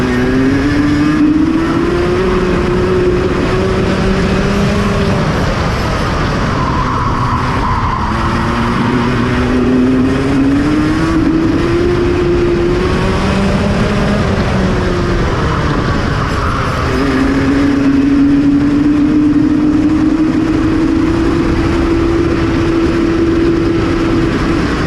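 A go-kart engine races during a round of the MKRC IKR Series, heard from onboard: a loud, continuous drone that climbs and falls in pitch with repeated throttle changes over two laps near the finish. No talking.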